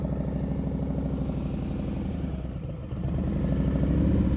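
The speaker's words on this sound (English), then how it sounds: "I heard the RPMs go up" Motorcycle engine idling and rising in revs during slow-speed riding practice, a steady low throbbing close by that swells louder toward the end.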